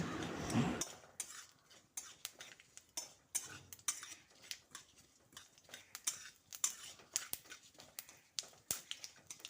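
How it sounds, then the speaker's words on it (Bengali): Whole spices, ajwain and black mustard seeds, stirred in hot oil in a pan: a quick string of close metallic taps and scrapes from the spoon, fairly quiet, with a brief louder burst of sizzle at the start. "সমস্ত গোটা মশলাগুলো কয়েক সেকেন্ড অনবরত নেড়ে চেড়ে ভেজে নেব"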